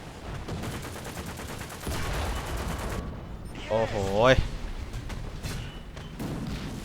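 Tank battle gunfire in War Thunder, a T-50 light tank engaged as shots, bursts and booming impacts land among rumbling engine noise, with a player talking throughout.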